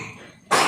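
A single short, sharp cough bursts out close by after a quiet moment, with no talking.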